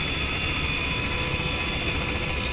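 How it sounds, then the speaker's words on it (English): Helicopter with a damaged engine in the Arma 3 video game, a steady, loud rotor and engine drone holding evenly throughout with no talk over it. "I guess our helicopter seems to be flying pretty well. Even with the damaged motor."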